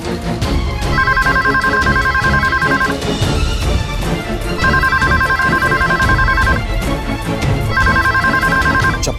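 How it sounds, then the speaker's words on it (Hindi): A phone ringtone plays in three repeated electronic ringing bursts over a steady, loud background of music and room sound, with no talking. "अभी तो फोन उठा।"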